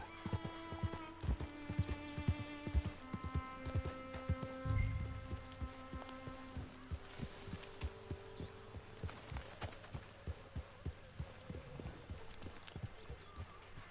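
Arthur's horse in the Red Dead Redemption 2 video game clip-clops at a steady pace throughout while a musical score plays, with one brief neigh in the middle. No one speaks.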